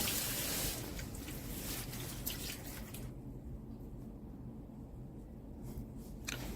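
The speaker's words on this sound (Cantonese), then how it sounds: "將南瓜、薯仔沖洗乾淨，盛起備用。" Pumpkin and potatoes rinsed under a running kitchen tap make a soft, continuous trickle and splash, quiet and close, with brief clattering bursts near the start and end.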